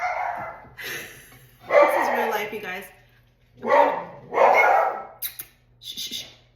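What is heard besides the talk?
dog barking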